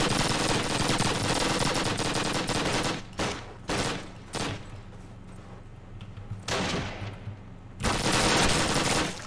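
SMG fire in a multiplayer shooter: long sustained automatic bursts up close, then shorter volleys broken by gaps of quiet, and a final loud burst near the end.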